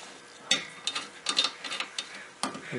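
A ratchet clicks in short bursts while it tightens a 19mm bolt joining the rear suspension strut to the knuckle on a Ford Contour. Several quick clustered ratcheting strokes sound up close, with brief pauses between them and no talking.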